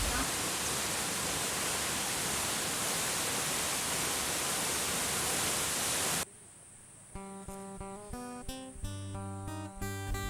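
Curug Mangkok waterfall in Dempo Makmur, Pagar Alam, Indonesia, roars as a dense, steady wash of falling water for about six seconds before cutting abruptly to music.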